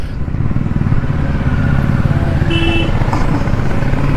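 A Kawasaki Z650 motorcycle riding off on a weekend getaway, its engine giving a steady, loud, close rumble throughout with a brief higher tone partway through.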